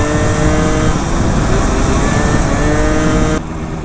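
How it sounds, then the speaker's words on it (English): A Yamaha Zuma 70cc scooter engine runs loud and close, sputtering with a rough, uneven idle that drops off near the end. "This Zuma is not too happy right now. Look at her, she's sputtering"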